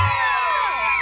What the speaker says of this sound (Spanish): Fuerte los gritos.